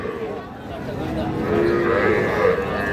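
A young bull calf about three months old moos at an outdoor cattle market, a drawn-out bellow rising over steady crowd chatter and background noise.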